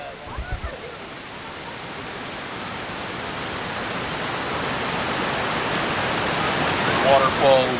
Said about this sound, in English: Waterfall over on that side.